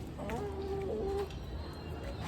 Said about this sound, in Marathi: मग आता आपण कोंबड्यांना सोडू